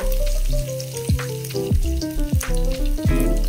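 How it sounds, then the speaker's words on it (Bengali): Crushed garlic cloves, ten to twelve of them, fry in a pan with a steady, loud sizzle, broken by a few sharp clinks of a utensil against the pan, and no one speaks. "আমি 10-12টা রসুনের কোয়া দিয়েছি। এটাকে একটু ফ্রাই করে নেব।"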